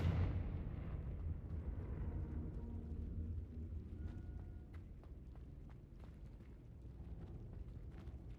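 The Confringo blasting spell exploding in Hogwarts Legacy: a loud, deep explosive rumble that rolls on for several seconds, with scattered crackles and debris pops as it slowly fades.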